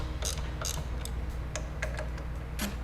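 Handlebar clamp bolts on a Harley-Davidson Road Glide ST are tightened in a cross pattern, giving a run of sharp metallic clicks and short ratcheting ticks at uneven intervals over a low background rumble.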